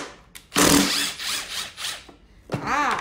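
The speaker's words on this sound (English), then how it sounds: "I don't want to drill into my table, so I'm going to double this up" A power drill bores through doubled-up wood in two loud bursts, a rising whine with grinding, separated by a short pause.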